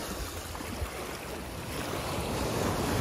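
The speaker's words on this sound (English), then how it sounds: "Waves are too crazy right now to check." Ocean surf at Laguna Beach, a continuous rushing roar of rough waves with wind buffeting the microphone, building slightly louder toward the end.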